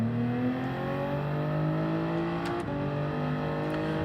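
A race car engine in Gran Turismo 7 pulls out of a corner in second gear, with loud sustained revving whose pitch climbs steadily, a brief shift partway through, and then keeps accelerating.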